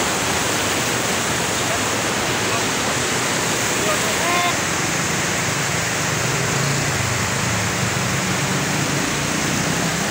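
Floodwater of the Pemali river after a flood rushes past in a dense, steady roar, loud and unbroken for the whole stretch, with a few faint background sounds.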